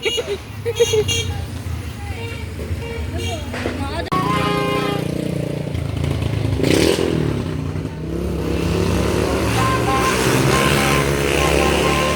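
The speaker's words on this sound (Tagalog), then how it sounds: "May motor, may motor." A motorbike engine revs and passes nearby amid street clatter on New Year's, with people talking loudly throughout.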